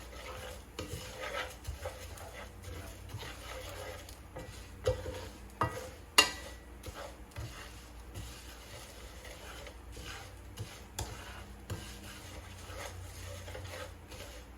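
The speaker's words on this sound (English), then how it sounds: "our rice is doing good here. So, as you can see, look at that, guys, that rice is getting brown." Rice sizzles as it browns in a pan for Rice-A-Roni with beef, a quiet steady frying crackle broken by scattered stirring scrapes and occasional clinks of a utensil against the pan, with no talking.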